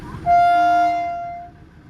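A train horn at a level crossing sounds one long, loud, steady toot that holds for about a second before fading away, with faint rumble beneath.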